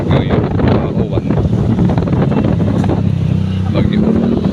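Strong wind gusts buffet the microphone outdoors at a public market terminal in Iloilo as a typhoon passes nearby, a loud constant roar with a voice talking underneath.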